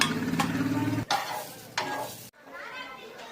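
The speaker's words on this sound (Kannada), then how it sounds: "ಎರಡು ಕಡೆನೂ ಚೆನ್ನಾಗಿ ಫ್ರೈ ಮಾಡ್ಕೋಬೇಕು" Green pea hara bhara kababs fry in a little oil on a tawa, giving a close sizzle with brief scraping and handling clatter before the sizzle stops abruptly.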